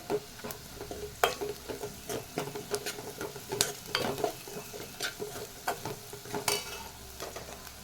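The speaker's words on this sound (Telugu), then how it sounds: "ఆనియన్స్ ఫ్రై అయ్యాక ఇందులో పసుపు వేసుకోవాలి ఒకసారి మొత్తం కలుపుకుందాం" Fried onions with turmeric stirred in a pan for beetroot fry, with a steady sizzle broken by repeated scraping strokes and clinks of the spoon against the pan, close and moderately loud, no talking.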